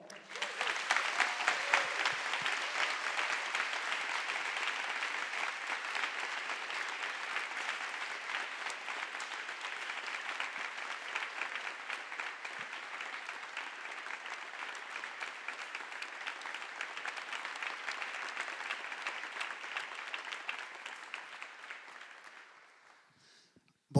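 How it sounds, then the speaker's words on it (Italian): A studio audience applauds to welcome guest Jacopo Fo onto the show, a long, even roar of many hands clapping that holds steady for over twenty seconds before tapering off at the end. "Signore e signori, per favore un applauso per Jacopo Fo."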